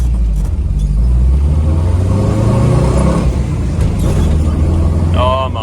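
A Holden Brumby driving after fresh steering rack ends are fitted, its mid-pitched engine droning and revving steadily up close for several seconds, with a short squeal or squeak near the end.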